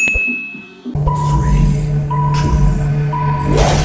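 A short channel intro jingle for a chemistry class plays after a brief stretch of quiet talk, with a steady electronic tone, bright chime-like hits and a rising sweep at the end.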